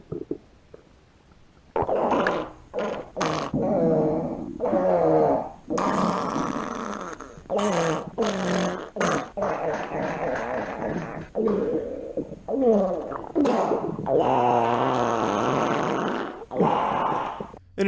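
Vocal imitations of diarrhea-style farts played back over walkie-talkies: a long series of wet, sputtering, buzzy bursts, loud and close, with brief gaps between blasts and a lo-fi radio quality.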